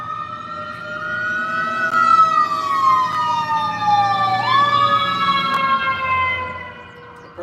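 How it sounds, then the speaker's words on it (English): Ambulance siren passing outside, a loud wailing tone that sweeps slowly down and then up again, close and clear with nothing else over it. "those type of ambulances that go by"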